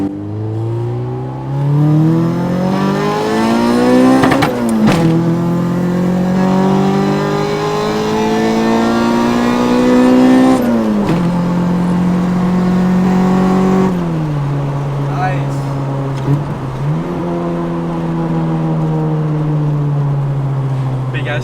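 A 1994 Honda Civic EG hatchback engine revs hard through the gears into VTEC crossover, the pitch climbing and dropping with each shift, loud and close throughout.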